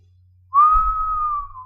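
A human voice imitates a whistle: after a short silence, one clear, sustained whistling tone starts suddenly and holds steady, falling slightly before fading at the end.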